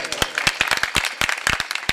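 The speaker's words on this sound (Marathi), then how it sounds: "मृदंगाच्या कार्य करता टाळ्या वाजवा" Audience at a Marathi kirtan clapping along, a quick irregular run of sharp hand claps, close and clear, sounding like a small group rather than a full crowd.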